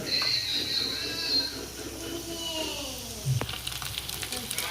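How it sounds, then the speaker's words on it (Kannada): Snacks fry in hot oil over a low gas flame, giving a steady, close sizzle with a faint stirring clink and some distant background sounds. "ಈ ಥರ ಲೋ ಫ್ಲೇಮಲ್ಲೇ ಇಟ್ಕೊಂಡು ಗ್ಯಾಸ್ನ ಉದಿರಿ ಫ್ರೈ ಮಾಡ್ಕೊಳ್ಳಿ ಇವನ್ನ"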